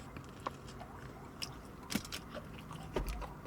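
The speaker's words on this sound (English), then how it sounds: "We gotta get another bite" Someone bites into and chews a Five Guys cheeseburger close to the mic, soft wet chewing with a few crisper crunchy bites, quiet and without talk.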